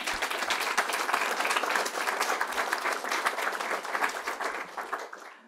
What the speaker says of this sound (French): je pense qu'on peut se redonner, même si ça fait déjà quelques fois, une bonne main d'applaudissements